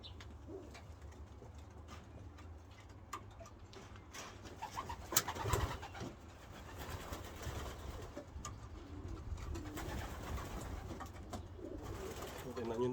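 Pigeons coo softly in low, throaty murmurs over a background of room noise, with a few faint bumps and scattered quiet talk nearby.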